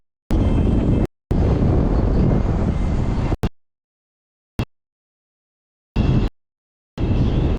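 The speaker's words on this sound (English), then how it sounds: "just the wind." Wind buffeting the microphone on a bike ride along the LA River Trail: loud roaring gusts that cut in and out abruptly, with fully silent gaps between them.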